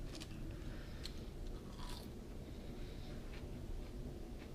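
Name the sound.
eating crunchy fries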